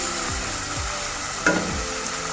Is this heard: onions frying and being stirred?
yes